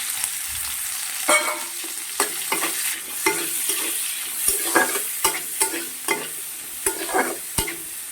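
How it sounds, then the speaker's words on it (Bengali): Chopped onion frying with chicken in a pan gives a steady close sizzle, broken by regular sharp scrapes and knocks of a spatula stirring. "আমি এর মধ্যে পেঁয়াজ কুচিটা দিয়ে দিচ্ছি"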